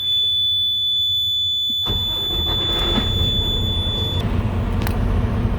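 A truck's low air pressure warning buzzer sounds as a steady, continuous high electronic tone that holds for a few seconds and then cuts off, while the engine idles underneath.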